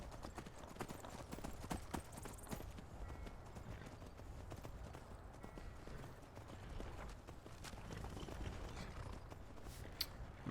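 Horse hooves clip-clop on the ground in Skyrim, a quiet run of rhythmic hoof strikes with a few sharper knocks, steady throughout with faint background ambience.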